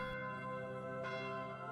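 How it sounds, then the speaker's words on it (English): Church bells of a priory in the video game Fire Emblem Shadows of Valentia, a single sustained ringing tone that hangs and rings on, quiet and distant in a game scene. "The bells of the Priory ring for a new day, a new dawn, a new era."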